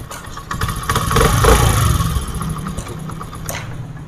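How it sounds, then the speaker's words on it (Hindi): A 2022 Honda CD 70 motorcycle engine idling after a full tune-up, a close, even mechanical putter with light clatter that swells briefly in the middle and then settles back to a steady idle. "ये देख सकते हैं कि गाड़ी बिल्कुल स्टार्ट है और आवाज़ बिल्कुल है ही नहीं"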